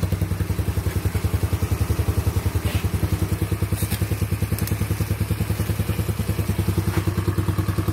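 An Icebear Maddog Gen 4 scooter engine running on its first startup, a steady, rapid, close putter with constant pulsing throughout, a few faint clicks on top and no talking.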